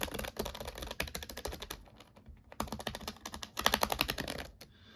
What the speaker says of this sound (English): very nice keyboard to type on